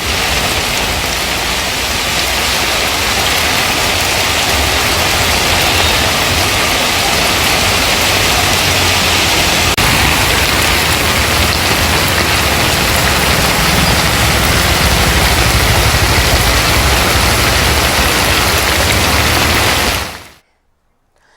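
Heavy, nonstop rain pours steadily in Hyderabad, a dense, even hiss that continues for about twenty seconds before cutting off abruptly.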